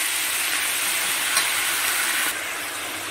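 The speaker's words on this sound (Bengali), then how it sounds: "2 থেকে 3 মিনিট একটু ভালো করে ভাজা করে নেব, মানে হালকা করে ভাজা হবে, পুরো ফ্রাই হবে না" Vegetables sizzle in a pan for a chicken dish, a dense, steady hiss of hot oil heard up close with no talk, easing slightly in loudness near the end.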